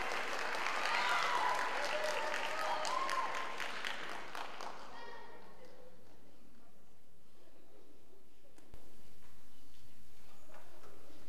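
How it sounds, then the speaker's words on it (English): A middle school spring concert audience applauds a soloist named Olivia, a burst of clapping with some voices that fades out over about five seconds into quiet room noise with a faint knock. "Let's give a special round of applause to Olivia."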